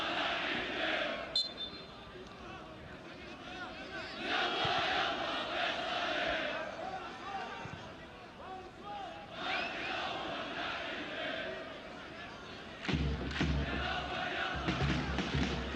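Football stadium crowd at an AFC Champions League group match between Al Faisaly and Al Sadd, a broad roar of voices that swells and ebbs in waves, with a louder surge near the end.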